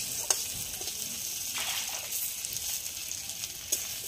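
Onion, garlic, green chilli and tomato fry in a pan with a continuous soft sizzle, a few faint pops and stirring scrapes breaking through the even hiss.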